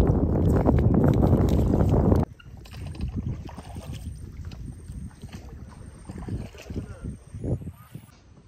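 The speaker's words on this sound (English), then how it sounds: "we're gonna go on the boat" Boat ride on open water at Pondicherry, opening with a loud, steady roar of wind and motion, then a quieter stretch of water and boat noise with people talking over it.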